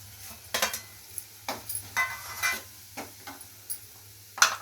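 Green chillies and garlic frying in a pan for Maggi, with a steady quiet sizzle broken by a series of irregular sharp spatula taps and scrapes against the pan, heard up close.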